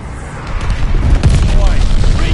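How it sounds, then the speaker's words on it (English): A called-in bombing run in a war video game, heard as loud, close, overlapping deep booming explosions that rumble continuously through the short clip. "Teammate called a bombing run."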